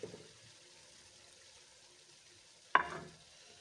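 About 1.5 kg of fried chicken is mixed in a kadhai for Quetta Chaman chicken karahi: a faint sizzle runs throughout, broken by one sudden stirring clatter that fades out.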